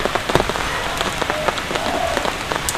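Heavy rain pours steadily outdoors, a dense, loud hiss of drops striking surfaces with scattered louder splats throughout and no talking.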